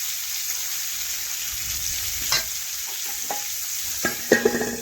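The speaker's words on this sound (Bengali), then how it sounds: "নাড়াচাড়া করে উচ্ছেগুলো আমি ভেজে নিলাম" Bitter gourd with salt and turmeric frying in a covered pan, a steady soft sizzle throughout with a few light clinks and stirring scrapes near the end, no talk.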